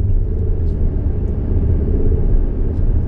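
A 2017 Mercedes C200 car engine runs steadily nearby, a constant low rumble with a slightly rough, clattery, diesel-like edge and no talking.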